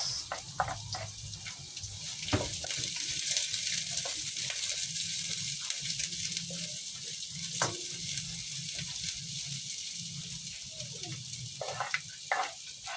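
Chopped onion sautéing in a pan for ginataan pako, a steady broadband sizzle with occasional utensil clinks and stirring scrapes, continuous and fairly close throughout.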